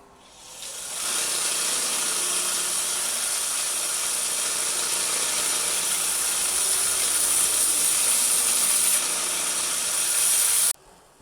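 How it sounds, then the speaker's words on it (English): A seax knife blade pressed against a belt sander, a steady loud abrasive hiss and whine that rises after a second and holds for about ten seconds before cutting off abruptly, with no talking. "Time to come on into the sanding belt here"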